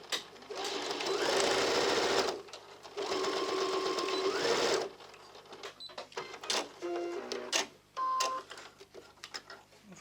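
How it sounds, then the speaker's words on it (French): A home sewing machine stitches bias binding onto a half-moon coin purse near a metal zipper slider, running in two steady bursts with a brief pause between them, followed by quieter handling clicks. "je viens coudre avec le biais dessous, mais sur le dessus, pour bien vérifier où est mon petit curseur métallique et pas taper dedans avec l'aiguille"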